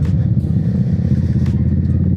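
A Kawasaki Z650 motorcycle being ridden, its mid-pitched engine droning steadily and close throughout, with light rattling and wind noise over the continuous rumble.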